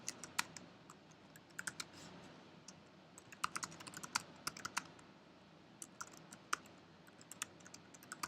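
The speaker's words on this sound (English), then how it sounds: "type what you'd like to type." Someone types on a computer keyboard, producing quiet, irregular clusters of crisp key clicks with short pauses between them, close but low in level.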